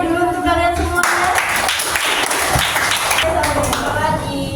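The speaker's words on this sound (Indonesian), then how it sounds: "Tepuk tangan dulu untuk kalian semuanya." Students in a classroom clapping together at the end of a lesson, loud dense applause mixed with children's voices and some tonal sounds before it.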